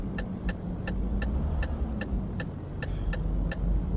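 Steady low engine rumble of a truck hauling 35-tonne mining excavator tracks through light traffic in Euro Truck Simulator 2, with a regular clicking tick like a turn indicator repeating about twice a second, no talk.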